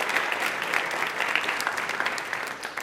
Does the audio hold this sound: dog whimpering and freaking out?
no